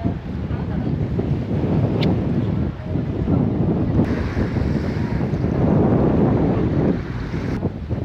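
Wind at the seaside on a sunny October day buffets the microphone in a loud, continuous low rumble that swells and eases, with faint surf beneath.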